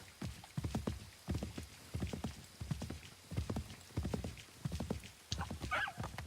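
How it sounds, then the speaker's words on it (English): Horse hooves clip-clop steadily in Assassin's Creed 3, the in-game horse trotting in an even repeating rhythm of close, distinct hoof strikes, with a brief whinny-like burst near the end. "I'm getting off this horse because now I'm annoyed."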